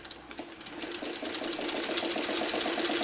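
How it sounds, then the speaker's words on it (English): A sewing machine stitches a Friendship Star quilt block, its needle whirring in a fast steady rhythm that builds up to full speed, close and continuous with no talking. "I'm just going to sew"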